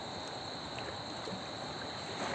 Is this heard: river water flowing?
yes